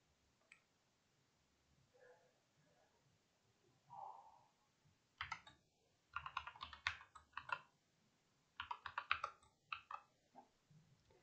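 Bursts of typing on a computer keyboard as a password is entered to log into a virtual machine, with irregular clusters of close, crisp key clicks separated by short pauses and no talk.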